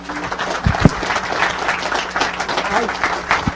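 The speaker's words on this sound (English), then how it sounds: "she deserves a round of applause" An audience at a bookstore author event applauds the organizer, a steady ripple of clapping from a roomful of people lasting several seconds, with a couple of sharper nearby claps and faint voices mixed in.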